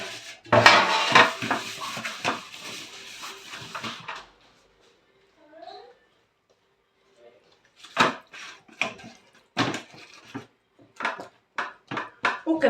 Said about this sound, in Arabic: غادي نحطها في الطاوه اللي انايا غندخلها بها الفران